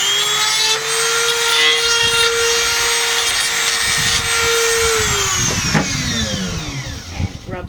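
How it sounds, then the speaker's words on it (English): Power sanding of small cut wood pieces for an alphorn, a steady whining tool tone running for about five seconds then winding down, with scraping and rubbing noises close by. "Now we're going to sand it down again."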